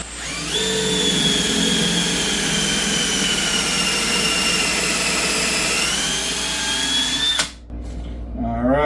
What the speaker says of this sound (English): I'm gonna drill a couple of holes and we'll check for 90.